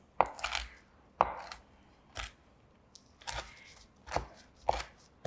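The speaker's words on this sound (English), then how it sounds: "So I'm just chopping this up into," A knife chops cooked bacon into small bits on a cutting board, giving several sharp, separate knocks at an uneven pace with quiet gaps between them.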